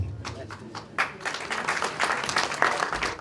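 Audience applause welcoming the chief guest onto the dais at a conference on universal social protection and labour, a dense, steady clapping from a sizable crowd that swells after the first second and continues throughout.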